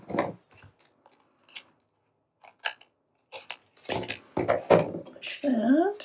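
Scissors trim the edge off a paper Christmas gift tag, making a few quiet, separate snips and crisp cuts close by. A voice speaks over the last couple of seconds.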